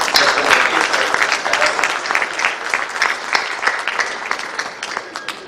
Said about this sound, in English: A lot of applause for this.